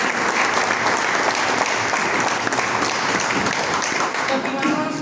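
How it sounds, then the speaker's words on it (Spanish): Sustained applause from a seated audience at a political round-table history event, dense and steady throughout at high level, with a faint voice briefly underneath. "Muy bien, un aplauso para él."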